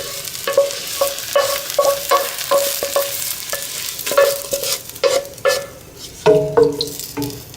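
Onions going into a simmering celery stew (karafs khoresht) and being stirred: steady, rhythmic scraping and stirring strokes in a pot, close and moderately loud, with no talk.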